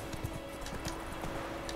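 Horse hooves clip-clop in a steady trotting rhythm in The Witcher 3: Wild Hunt, faint and regular over a low game background hum.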